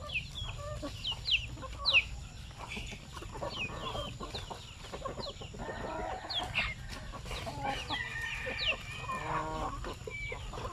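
Native chickens out in a farm range area give scattered clucks and calls, some louder and nearer, others faint, over a soft outdoor background with no talking.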